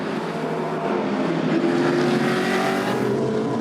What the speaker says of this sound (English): The safety car pulls clear, and the cars head off.